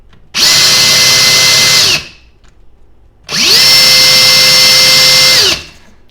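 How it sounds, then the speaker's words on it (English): Two loud bursts of a Metabo HPT 36V MultiVolt cordless hammer drill at top speed, each a sustained high-pitched motor whine that ramps up and spins down, with silence between. "Definitely sounds a lot louder, kind of an annoying whine there with that motor."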